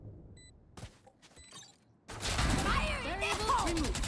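Gunfire in a Counter-Strike style esports match: a few sparse shots first, then a loud, continuous fusillade of rapid fire. An excited caster's voice runs over it.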